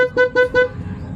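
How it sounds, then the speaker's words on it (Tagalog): Upgraded horn on a Yamaha Aerox 155 S scooter honks three short, loud, bright toots in quick succession, close by, with faint engine and background rumble after. "Ayan yung busina."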